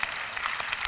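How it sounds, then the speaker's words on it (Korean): A dense burst of audience applause fills a church conference hall, with steady clapping from many hands and no talk over it. "하나님께 영광의 박수를 올려드립니다"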